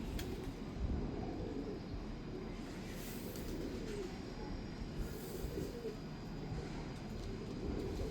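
Breeder pigeons coo softly amid a busy, noisy background of rumble and general commotion, with faint voices now and then.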